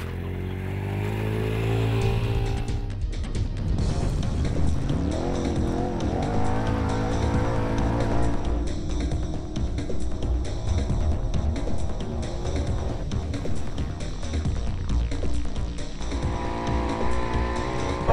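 Machines, probably snowmobiles, tear around a trail on the Speedwerx property's back acreage, loud revving engines rising and falling with sharp bursts, passing close and continuing throughout.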